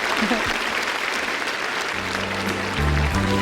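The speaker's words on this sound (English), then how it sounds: "How about one big round of applause for the star of the evening" Steady crowd applause at a music concert fills the space, continuous and fairly loud, with a faint tonal hum of music or voices rising underneath toward the end.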